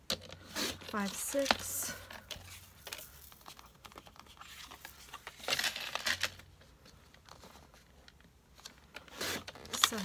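A sheet of paper is cut into pieces for handmade thank you cards. Short, crisp cutting and crinkling bursts come close by, set between a person counting aloud.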